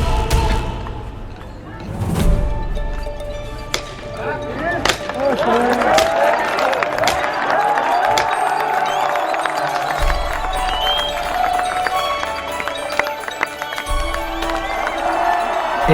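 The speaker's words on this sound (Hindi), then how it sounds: "इंडिया के फौजी पैर पटकते तो हिंदुस्तानी इस पे तालियां बजाते, पाकिस्तान के फौजी पैर पटकते तो पाकिस्तानी इस पे तालियां बजाते।" A large crowd at the India–Pakistan border parade cheers and claps steadily, with a few heavy thumps as soldiers stamp their feet. Voices rise throughout, and a loud drone-like tone sits under the crowd noise.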